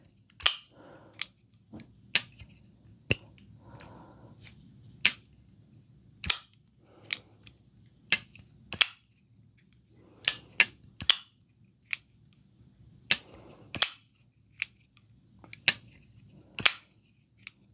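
Ketuo Syndicate folding knife with a mirror-polished zirconium titanium finish, its blade snapping open and shut in a string of sharp, close metallic clicks and clacks at irregular intervals, with quiet handling noise between them.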